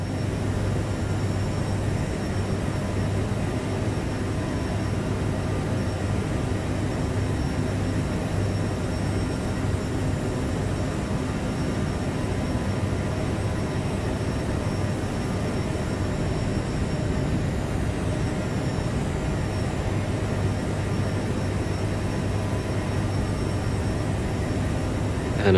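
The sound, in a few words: Aerosoft CRJ-700 jet climbing, from video game Microsoft Flight Simulator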